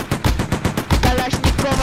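An AK rifle in a Roblox game fires a rapid automatic burst, a close, loud stream of evenly spaced sharp shots with no pauses.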